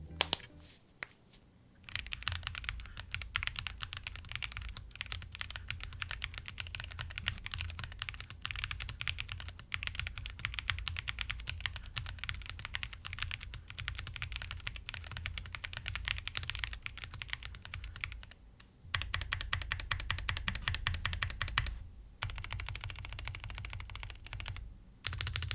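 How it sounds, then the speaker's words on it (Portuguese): Rapid typing on a Cidoo V65 mechanical keyboard, a dense close stream of clacky keystrokes with a brief pause near the end, loud and continuous without any talking. "vamos fazer aqui um teste de digitação"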